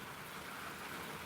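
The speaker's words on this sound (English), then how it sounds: "It's kind of like a heavy rain" Heavy rain pours down steadily in a dense, even hiss with no break, fairly close and constant, with no voices over it.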